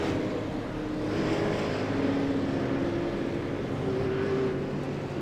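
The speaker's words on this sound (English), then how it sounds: "Cars begin to move off the grid and take their pace lap" Simulated race cars in iRacing rolling off the grid at Phoenix International Raceway for a pace lap, heard as a steady, even engine drone with a faint rising whine, no talk.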